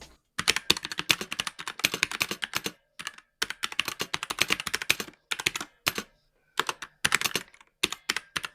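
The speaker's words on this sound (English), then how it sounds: "I'm going to move you guys down by the keyboard so you can hear exactly how it sounds." Fast typing on a Kemove Dierya DK63 Bluetooth mechanical keyboard, heard up close as dense bursts of crisp clicky keystrokes broken by short pauses, with no voices.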